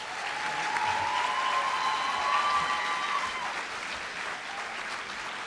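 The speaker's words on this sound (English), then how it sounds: "let's give this awesome group another round of applause." Sustained audience applause for a school group at a district celebration, a steady dense clapping roar from a large crowd that holds evenly throughout with a faint tonal hum underneath.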